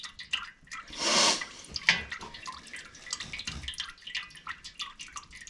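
Fluid draining into a pan during a vehicle fluid change, a steady trickling and dripping close by with a louder splashing burst early on, no talking.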